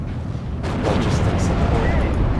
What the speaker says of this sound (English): Artillery at your orders.